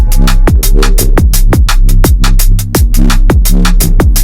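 Electronic drum loop in Ableton run through an envelope follower mapped to the dry/wet control, loud and punchy with steady kick hits about every half second and bright percussive layers on top.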